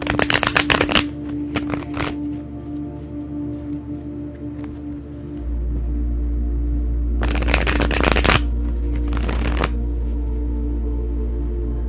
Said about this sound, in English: So we are going to shuffle and get those 1 to 3 cards.